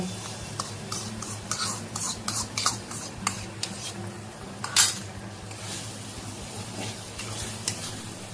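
Sour yogurt stirred into oil-separated fried spice paste for doi katla fish curry, with repeated scraping and clinking of a utensil against the pan and a faint sizzle underneath, moderately close.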